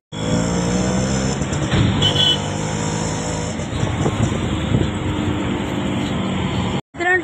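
A steady, close engine drone and rattle come from inside a moving auto rickshaw, with small surges in loudness, a faint high whine, and a short dropout near the end.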